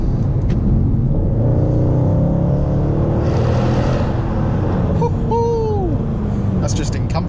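A 2013 Mercedes C63 engine drones and rumbles steadily throughout a drive, loud and close from inside the car, with a brief chime partway through and no talk over it.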